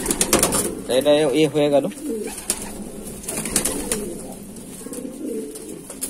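Pigeons of a running breed coo in throaty, wavering bursts up close, loudest near the start and fading later, while someone speaks over and between the calls.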